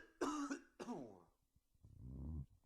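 A person with a cold coughs twice in quick harsh bursts, then gives a lower, muffled cough or throat clear after a short gap, close and fairly quiet.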